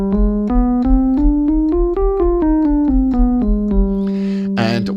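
A Phrygian dominant scale, the fifth mode of harmonic minor, played note by note upward and back down on a sustained pitched instrument, about a dozen even steps ending on a held low note, close and loud.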